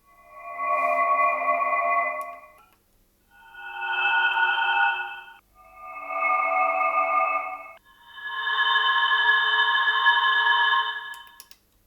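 Four sustained, resonant synth tones from a multi-band resonator network excited by white noise on a Gotharman's Tuul, with a hollow, ringing, noisy timbre, each swelling in and out with short gaps, the last one longer.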